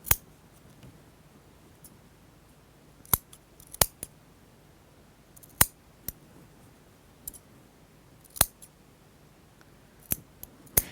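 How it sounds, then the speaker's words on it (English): Scissors snip through several layers of fabric as a garment's facing pieces are trimmed, giving sharp, isolated clicks at irregular intervals against a quiet room. "So, especially if your scissors aren't very sharp, you might be tempted to cut like this."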